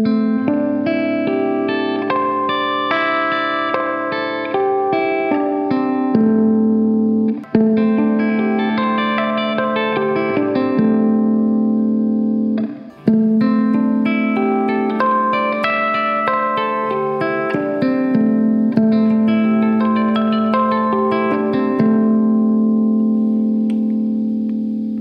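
An electric guitar, sounding heavily processed with effects and reverb, plays a pentatonic lick of cascading harp-style harmonics, ringing chime-like notes in repeated rolling phrases with brief breaks between them.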